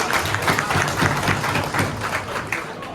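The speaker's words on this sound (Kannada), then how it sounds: "ಒಳ್ಳೆ ಚಪ್ಪಾಳೆ." Applause from an audience at a Congress party groundbreaking ceremony for a new commercial building in Kanakapura, a dense, continuous patter of many hands clapping at moderate distance for a few seconds.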